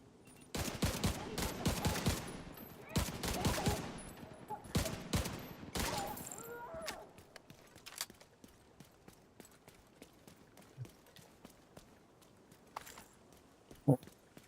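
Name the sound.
rifle gunfire in the video game The Division 2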